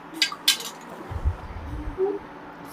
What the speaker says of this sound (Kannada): 5 ರೂಪೀಸ್ ಕಾಯಿನ್ ಹಾಕೋತಿದ್ದೀನಿ.